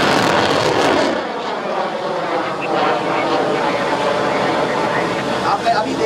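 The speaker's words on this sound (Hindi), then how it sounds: "IMS नाशक ने लक्ष्य पर P-21 surface to surface missile launch की है।" A P-21 surface-to-surface missile launched at sea from the Indian Navy warship INS Nashak, a loud, sustained broadband roar that fills the whole stretch without pause.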